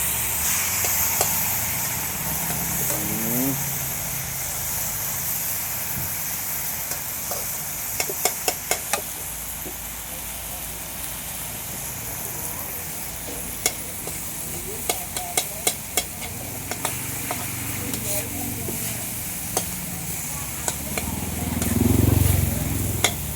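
Pad thai noodles stir-fried in a wok at a street stall, with steady sizzling and repeated scraping and clanking of a spatula against the metal, and occasional louder knocks throughout.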